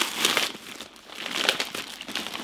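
Close crinkling and crumpling of a small plastic parcel bag being unpacked to reveal a backpack, in several irregular bursts of rustling.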